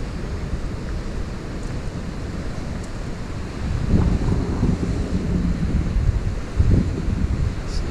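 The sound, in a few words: ocean waves and swell on the Cornish coast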